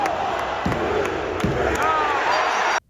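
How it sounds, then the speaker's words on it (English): Live crowd noise from inside the arena at a wrestling event, a steady, fairly loud wash of audience murmur and scattered shouts with a couple of dull thuds, ending abruptly. "the crowd just sounds so dead in person."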